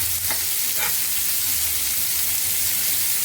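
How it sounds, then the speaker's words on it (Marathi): Bombay duck (bombil) fish frying in a pan, a steady loud sizzle and crackle throughout, with a couple of brief sharper hisses early on and no talking. "आता दुसऱ्या साईडने सुद्धा आपण असे शिजवून घ्यायचे आहेत तळून घ्यायचे आहेत दोन्ही"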